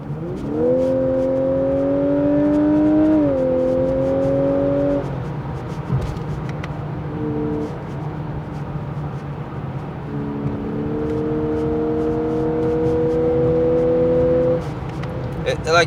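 A Lexus LC500h hybrid coupe accelerates hard in sport mode, its engine note rising in stepped pitches through quick gear changes, loud and close from inside the cabin, with someone talking over it.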